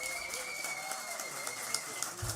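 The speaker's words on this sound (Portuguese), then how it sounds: "Uma salva de palmas pro moleque, hein?" Applause from an audience at a political event in Ceará: a steady, dense wash of clapping from a sizeable crowd, moderately loud, with a few sharper individual claps standing out and faint voices underneath.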